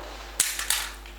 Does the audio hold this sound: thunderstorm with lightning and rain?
no